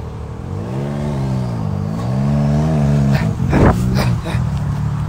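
A four-wheel-drive truck engine idles and revs in rising and falling waves, loud and close, with a brief burst of rattling noise partway through.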